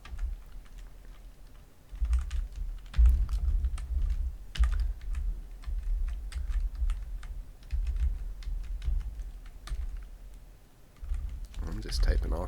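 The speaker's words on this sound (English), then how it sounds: "I'm just typing all kinds of crazy stuff." Rapid clicking of computer keys in bursts and flurries, close up, with short pauses between runs of typing.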